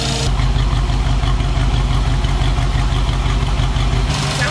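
A V8 engine in an early Ford Bronco with Holley Sniper EFI idles steadily with a deep, even rumble, loud and close, running without a break for several seconds.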